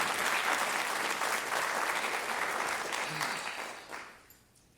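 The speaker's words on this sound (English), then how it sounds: "round of applause for our sponsors" A dense round of audience applause for event sponsors at a community gathering, loud and continuous at first, then thinning and fading out toward the end.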